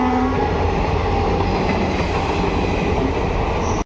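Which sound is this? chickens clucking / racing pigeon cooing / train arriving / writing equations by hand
train arriving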